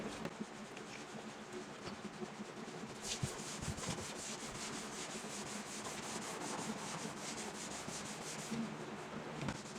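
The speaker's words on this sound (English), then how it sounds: "it doesn't matter which way we sand it, whether we go up or down, side to side, or in a circle" Fine-grit sandpaper rubbed by hand over primer on the body of a 1972 Volkswagen Super Beetle during restoration, a steady close scratchy rasp with rhythmic strokes that runs continuously and grows brisker partway through.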